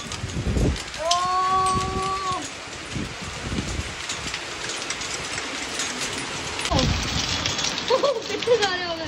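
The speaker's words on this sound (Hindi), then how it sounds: "ये झमाझम बारिश और ओले पड़ रहे भाई" Heavy rain and hail pour down outside in a steady, dense hiss, with brief whistling tones early on and a few louder spatters near the end; a voice is heard at times.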